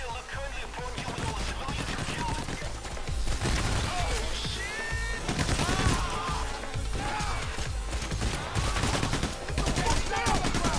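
Shotgun blasts and rapid gunfire ring out in the bank heist game Payday: The Heist, a dense, continuous fusillade of sharp close shots and crashes running throughout, with voices mixed faintly underneath.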